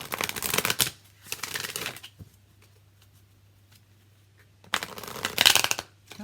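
An oracle card deck is shuffled in two crisp bursts of riffling, one near the start and another toward the end, separated by a quiet stretch with faint soft handling noises and a low hum.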